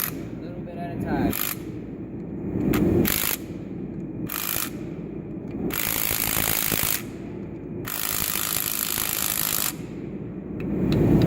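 A ratcheting wrench torques down a bolt on a 6.0L engine, giving several close, loud bursts of rapid clicking separated by short pauses.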